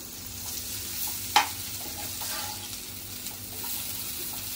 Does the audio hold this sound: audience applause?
no